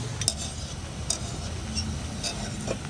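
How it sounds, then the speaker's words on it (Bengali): Sweet potato rasgulla frying in oil in a pan gives off a steady, even hiss, with a few sharp clicks of a utensil against the pan. "দারুণ হে রসগোল্লা ভাজা হয়ে গেছে"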